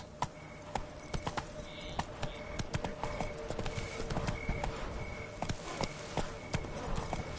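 Roach, the horse in The Witcher 3, trots with steady clip-clopping hooves over a busy game soundscape, the hoofbeats moderately close and continuous throughout.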